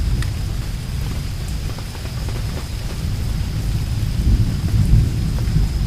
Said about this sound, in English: Now the lightning strike. Now the blow.